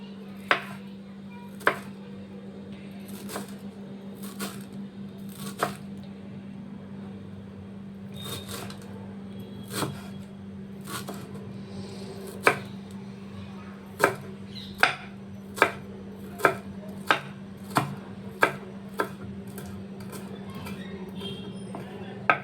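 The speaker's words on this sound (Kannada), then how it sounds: "ಸಬ್ಬಕ್ಕಿ ಕಟ್ ಮಾಡ್ಕೊಳ್ಳೋಣ. ಇದನ್ನು ಅಷ್ಟೇ ಸಣ್ಣದಾಗಿ ಕಟ್ ಮಾಡ್ಕೊಳ್ಳೋಣ." A knife chops dill leaves finely on a board for masala rice roti, making a series of crisp, close taps that come irregularly at first and then quicken into a steady run over a low constant hum.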